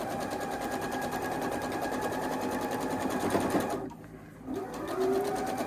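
A sewing machine stitches a quilt block seam with a fast, even close-up whir, pausing briefly near the end before resuming.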